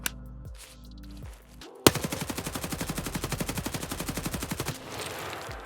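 A full Golnick magazine dump in Escape from Tarkov: one sharp shot, then a long rapid burst of automatic gunfire with evenly spaced loud reports, ending abruptly with faint ambient noise and no speech.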